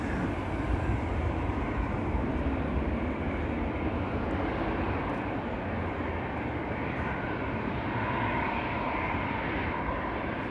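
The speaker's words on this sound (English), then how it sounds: "I think there is a wide body coming our way in the background. KLM 777 to Cape Town" KLM Boeing 777 wide-body airliner heading for Cape Town from Amsterdam Schiphol, a broad steady engine rumble in the distance, continuous and even throughout, no talking.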